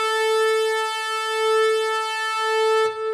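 A sustained Syntronik synthesizer lead tone with rich, steady harmonics holds for about three seconds, subtly wavering from filter movement and detuning, then cuts off abruptly.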